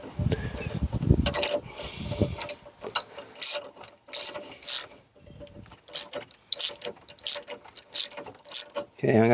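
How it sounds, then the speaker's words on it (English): A short-handled ratchet snugs bolts on the inverter pump of a Lexus CT200h, with a series of sharp, close clicking bursts separated by brief pauses and a little faint background noise. "it's only because I got a short-handled ratchet"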